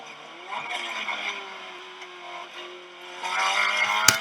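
A race car at COTA's turn 12 revs up through a series of rising engine tones, quiet at first and then louder as the throttle opens, ending with a sharp click or knock.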